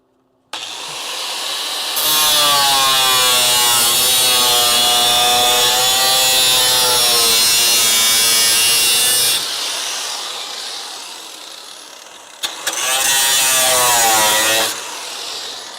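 A grinder works on a Dodge Charger crew cab build, running loud and steady in two long passes separated by a brief pause, with a rising and falling harmonic whine as the pressure changes.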